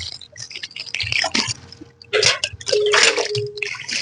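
Water sprinkled over mixed organic compost for a rooftop garden, wet splashing and dripping bursts falling onto the damp mix in uneven spurts, close and fairly loud with short pauses between pours.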